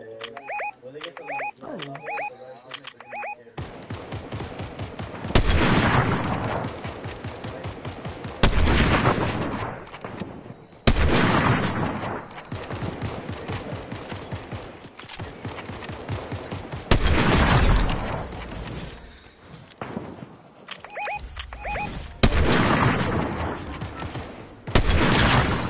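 Bursts of rapid gunfire in a Fortnite battle crackle loudly in repeated volleys, some long automatic sprays and some shorter ones, with brief quieter gaps between them.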